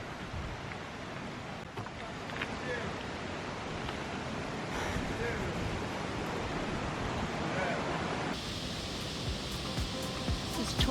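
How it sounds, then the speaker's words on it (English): Torc Waterfall in Killarney National Park, Ireland, gives a continuous broadband rush of falling water, steady and fairly close, with faint voices at times and a louder, brighter surge near the end. "This is Torc Waterfall."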